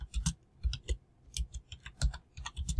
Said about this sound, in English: I'm going to type in revenue from web ads